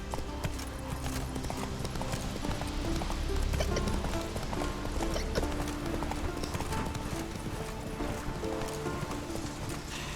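The horse Roach gallops in The Witcher 3, its hooves clip-clopping in a steady, continuous rhythm that stays loud and close throughout, with ambient game sound beneath.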